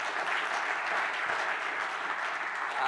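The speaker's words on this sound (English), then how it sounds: "can you applaud him one more time?" Audience applause fills a budget forum hall in Ghana, a dense, steady wash of clapping that stays loud and even for the whole stretch, with no voices rising above it.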